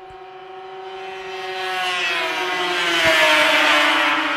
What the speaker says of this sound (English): Looks like Danik Lambert out of Quebec with the whole shot, taking that number 3 down the back straightaway.